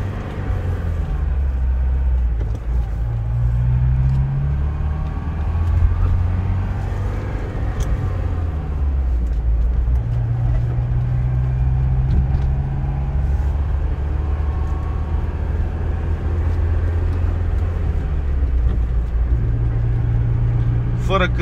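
A BMW pulls away from rest in first gear, its low engine rumble steady and close throughout, with someone talking over it.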